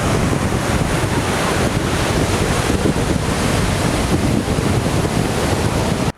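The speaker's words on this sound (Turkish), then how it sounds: "yüksek yüksek dalgalar var ileride" Loud, continuous roar of Atlantic Ocean surf at Casablanca, Morocco, with waves crashing on the shore, mixed with heavy wind buffeting the microphone, no voices.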